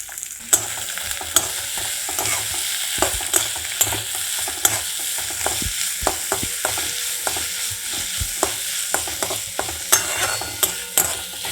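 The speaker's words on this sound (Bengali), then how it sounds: "হালকা বাদামি করে ভেজে নেব" Onions and curry leaves frying in mustard oil in a pan give a steady, close sizzle, broken by sharp clicks and scrapes from stirring throughout, with no voices.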